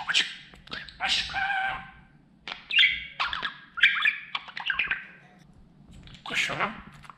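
A pet budgerigar chirps and warbles close by in repeated bursts of squawks and tweets, with quiet gaps and a faint low background hum between phrases.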